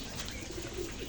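Pigeons on a rooftop coo softly, with a couple of low, brief calls set against faint background noise.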